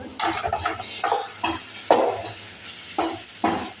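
Tomatoes for rasam frying in a pan, heard as a string of scraping, stirring strokes in short bursts over a faint sizzle, close and fairly loud, with no voices.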